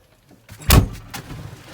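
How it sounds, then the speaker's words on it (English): The cab door of a Massey Ferguson MF 7718 tractor slams shut once, a close solid thud with a short rattle after, heard from inside the quiet cab with no talk. "if I slam the door"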